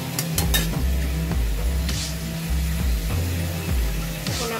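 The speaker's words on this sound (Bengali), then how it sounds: "আবার আমি আলু কাঁঠাল একসাথে কষাতে থাকবো," Jackfruit being stir-fried in a pan, a steady sizzle with scraping stirs of a utensil against the metal, close and continuous, with no talking.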